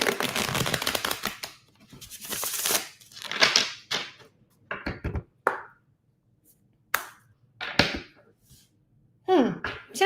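A tarot deck is shuffled in several bursts of riffling, papery card noise, with scattered taps and pauses between them, close and fairly quiet.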